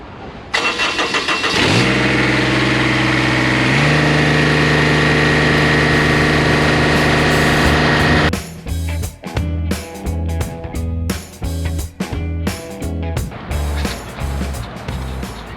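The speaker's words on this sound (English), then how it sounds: "Warm the engine up." A tractor engine cranks and catches, roars at a steady high idle for several seconds to warm up, then settles into a lower, choppy, pulsing idle that continues up close.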